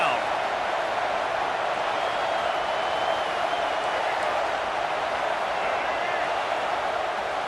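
Stadium crowd noise from the College Football 26 video game during a Texas A&M game: a steady, dense roar that holds level throughout with no pauses or swells.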